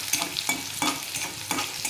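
Garlic and finely chopped green chillies are sautéed in oil for a dry soybean keema, potato and cauliflower curry. A close, continuous sizzle is broken by rhythmic scraping stirs about every half second, with no voices.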